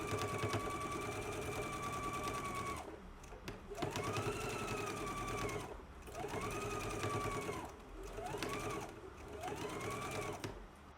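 A home sewing machine stitches a 5/8 inch seam allowance on a dress bodice in several bursts of rapid whirring, each run separated by a brief pause, close and fairly quiet.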